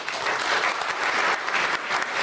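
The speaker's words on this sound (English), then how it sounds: "I'd like to offer a warm round of applause to our guests" An audience gives the guests of a Q&A session a warm round of clapping, a full, continuous patter of many hands that swells slightly and holds steady throughout.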